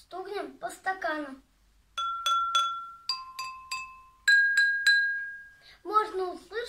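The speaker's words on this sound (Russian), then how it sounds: "Аккуратно стукнем по стаканам." Three groups of three clear taps on glasses filled with different amounts of water ring out at different pitches, each note sustaining briefly, with a voice speaking before and after.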